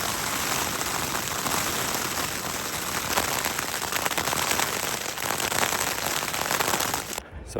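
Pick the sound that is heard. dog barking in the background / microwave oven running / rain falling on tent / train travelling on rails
rain falling on tent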